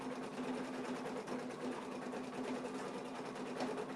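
Embroidery machine running a tack down stitch on a mug rug project, a steady quiet rapid whirring hum with a constant pitch, continuous throughout.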